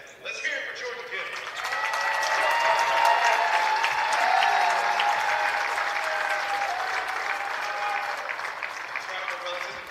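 Basketball fans in an arena applaud and cheer for player Jordan Gill, a dense, sustained wash of clapping and crowd noise that swells after the first second and holds steady, with voices shouting through it.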